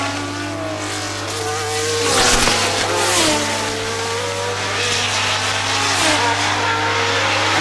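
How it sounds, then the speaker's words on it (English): Formula 1 cars at the 1977 Dijon race, a red Brabham Alfa and a John Player Lotus Ford, scream past with high rising and falling engine notes over a constant low hum, loud and close throughout. "Red Brabham Alpha against the John Player Lotus Ford."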